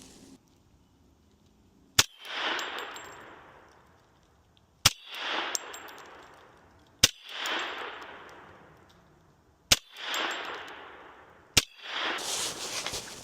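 A 10mm rifle fires five evenly spaced shots at a 10-yard target, each a sharp, loud crack followed by a brief echoing decay, with quiet pauses between them.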